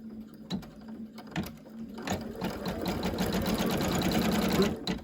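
An embroidery machine stitches a puffy-foam coaster, starting with a few isolated needle clacks and building into a fast, steady mechanical rattle of rapid stitching, close and fairly loud.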